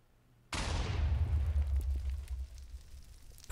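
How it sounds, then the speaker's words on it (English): A block of TNT detonates in Minecraft, a sudden sharp blast followed by a heavy low rumble that decays over about three seconds, alone with no talking. "every time I blow up a TNT, I get more low FPS."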